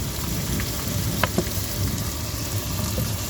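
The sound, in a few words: tomatoes sautéing in pan for fish curry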